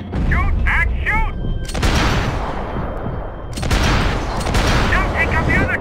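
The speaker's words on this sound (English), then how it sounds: "Shoot, Max, shoot." Gunfire in the video game Max Payne 3, with sharp shots and booming bursts from close by, mixed with shouted voices and busy action noise throughout.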